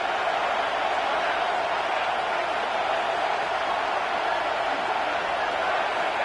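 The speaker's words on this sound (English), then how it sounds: "Here comes this home crowd as the defense tries to get off the field on 3rd down." A home crowd roars at a college football game as the defense faces third down, a steady, dense wash of cheering noise holding at one level throughout.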